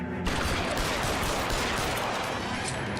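Dense gunfire crackles in a shootout in the LA Noire video game, a continuous barrage of rapid shots that starts abruptly and stays loud for about three seconds.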